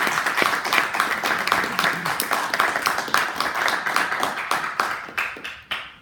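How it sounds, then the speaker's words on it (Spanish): Audience applause for a teacher at a law-education dialogue panel, sustained dense clapping from a seated crowd nearby, steady throughout and tapering off in the final second. "también un aplauso."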